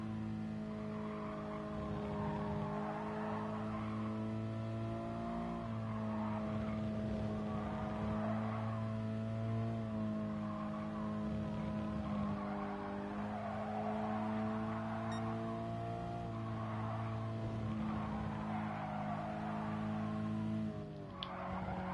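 A race car in the GT Sport video game holds a steady, droning engine note with shifting pitch as it slides through a bend, alongside faint tire noise and no voices.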